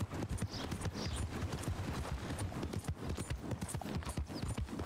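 Horse hooves clip-clop steadily at a walking or trotting pace in Red Dead Redemption 2, a continuous rhythm of close, fairly soft hoofbeats with no talking.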